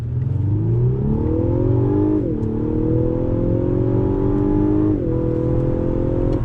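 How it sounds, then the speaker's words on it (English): A 2019 Lexus LS 500 sedan pulls away hard from a standstill in Sport Plus mode. The engine climbs loudly in pitch through two gear changes, each marked by a brief dip before it rises again. "I want to do another acceleration run from a dead stop in Sport Plus mode on the throttle"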